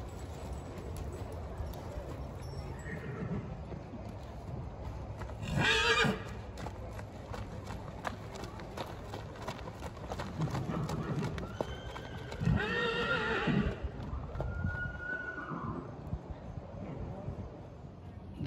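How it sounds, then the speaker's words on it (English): Suffolk draft horses at an obstacle course, hooves clopping steadily on the ground, with two loud whinnies partway through and faint birdsong behind, distant voices occasionally audible. "we have two single horses that are going to run the obstacle course"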